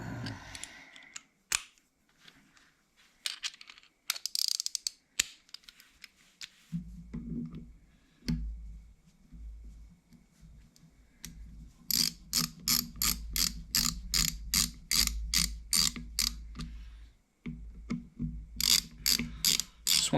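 Ratchet wrench tightening the oil filter cover bolts on a Royal Enfield Bullet 350 motorcycle: close, loud rapid clicking bursts in several runs, with softer handling clatter before them and no talk.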